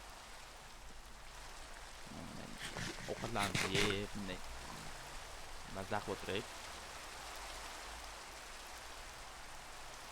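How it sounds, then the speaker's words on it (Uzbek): Steady rain pours down in the blocky world of Minecraft, a constant even hiss that runs the whole time beneath someone talking casually. "endi yomg'ir yog'ib qoldi."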